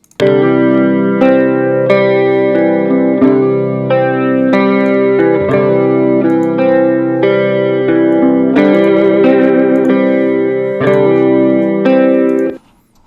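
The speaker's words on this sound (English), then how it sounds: "you can just use the stock Logic chorus on here, which sounds like this." Electric guitar through Logic's stock chorus plugin, chords and melodic phrases ringing out with a shimmering, wide, wavering tone, loud and continuous until a sudden stop.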